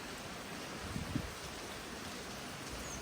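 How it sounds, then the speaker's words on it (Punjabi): Continuous rain falls in the hill town of Murree, a steady, even hiss of drops with no pauses and a couple of soft nearby knocks, and no voices. "ਮਰੀ ਦੇ ਵਿੱਚ ਦੇਖੋ ਕੱਲ ਦੀ ਬਾਰਿਸ਼ ਸ਼ੁਰੂ ਆ, ਬਾਰਿਸ਼ ਬੰਦ ਨਹੀਂ ਹੋ ਰਹੀ"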